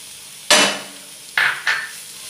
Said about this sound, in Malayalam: ഇനി ഇതിനകത്തോട്ട് നമ്മൾ ആദ്യം ഇട്ട് കൊടുക്കുന്നത് സോയയാണ്.